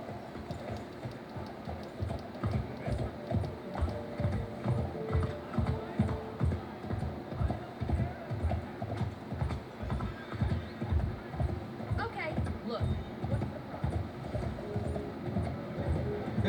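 Horse hooves in an older video game clip-clop in a steady, even rhythm, close and fairly loud, continuing throughout over a low background rumble.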